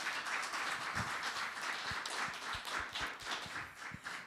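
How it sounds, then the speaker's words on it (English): An audience at a city council candidate forum gives a round of applause, a steady spread of clapping with individual hand claps audible close by throughout. "Let's give them a round of applause."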